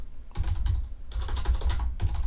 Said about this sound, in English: let's just type bed